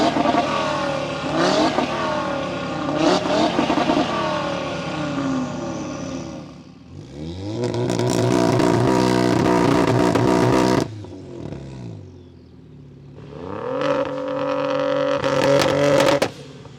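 Four tuned hot hatches revving in turn, a 3-cylinder Toyota Yaris GR, 4-cylinder VW Golf R, 5-cylinder Audi RS3 and 6-cylinder BMW M2, with sharp throttle blips, rising and falling revs and pauses between cars, loud and close.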